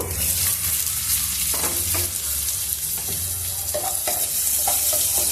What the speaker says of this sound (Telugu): అల్లం వెల్లుల్లి పేస్ట్ కూడా పచ్చివాసన పోయేంత వరకు వేయించుకున్నాము